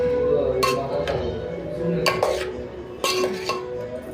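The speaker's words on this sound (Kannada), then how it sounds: "ಚೆನ್ನಾಗಿ ಫ್ರೈ ಆಗ್ತಾಯಿದೆ, ತಿರುಗಿಸ್ತಾನೇ ಇರಬೇಕು ಸ್ವಲ್ಪ ಹೊತ್ತು." Bottle gourd frying in a pan on low heat is stirred with a utensil, giving a few sharp clinks and scrapes against the pan over a steady low sizzle.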